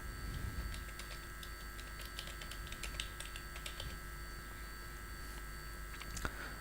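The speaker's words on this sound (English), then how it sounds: "let me type something and just type submit" Quiet clicks of a computer keyboard as a comment is typed into a box, brief bursts of keystrokes over a steady electrical hum, faint and close.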